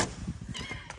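A cat meows several times in quick succession, close by on a homestead, with low thumping noises underneath.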